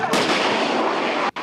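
Loud military artillery live fire during a Taiwan army field exercise: one sustained blast fills the frame with a rolling, roaring report, then cuts off abruptly near the end, with no voices.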